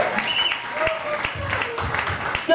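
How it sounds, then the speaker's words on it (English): Audience applause for comedians at a live comedy show, a steady wash of clapping and crowd noise running throughout with some voices mixed in. "Give a round of applause to all the performers tonight"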